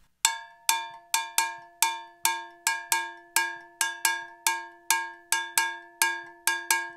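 A bell is struck in a basic 12/8 pattern, played up on the bell's upper tone: crisp, ringing metallic hits repeat in an even lilting cycle, close and clear with no voices.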